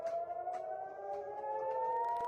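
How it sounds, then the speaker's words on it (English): Air raid sirens wail over Tel Aviv during a missile alert, a steady rising tone held loud and continuous throughout, with faint distant clicks and background noise. "Sirens sounded in Tel Aviv as residents were seen running for cover"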